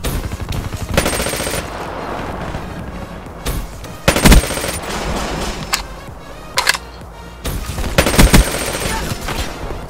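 PPSh submachine gun fire in Black Ops 3, several loud, close bursts of rapid automatic shots separated by gaps, with quieter gunfire and game noise between them.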